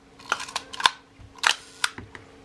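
A Retina Reflex IV camera shutter fires in several sharp mechanical clicks, a few crisp snaps spaced irregularly with faint whirring between them, close and alone.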